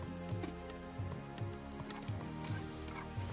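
Boiled potatoes and mushrooms fry in a pan with a loud, steady crackling sizzle, while regular scraping strokes from mixing repeat about every half second, close up and with no talk.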